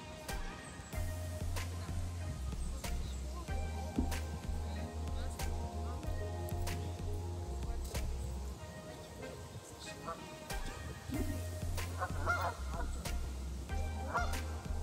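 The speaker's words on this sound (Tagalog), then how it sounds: "Maingay na yung mga ducks." Waterfowl in a park, ducks and geese, honk steadily and noisily from nearby. The honking goes on through the whole scene while someone talks over it.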